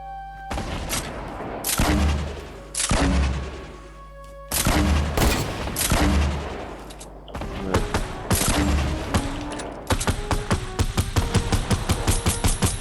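Rapid bursts of gunfire from a Fortnite Battle Royale match, loud sharp shots in clustered volleys with booming impacts, ending in a fast string of repeated cracks, with no talk over them.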